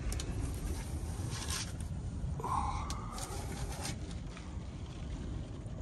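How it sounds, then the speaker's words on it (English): A MaxxAir roof fan in a van on a rainy, windy day pushes a steady, broad rush of air that stays constant throughout, close and moderately loud, with faint rustles and a brief tonal squeak midway. "Still a lot of wind coming from the max air fan"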